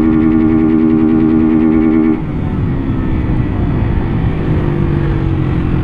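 Modified motorcycle with a loud aftermarket exhaust on a Honda Start, revving close up with a strong steady drone that drops to a lower, rougher idle partway through.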